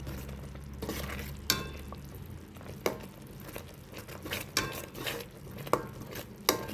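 Coconut dough mixed with ghee and cardamom powder in a pot for Sankranti coconut burelu, giving close, intermittent scraping, stirring and soft clinks of a utensil against the vessel, with no talking.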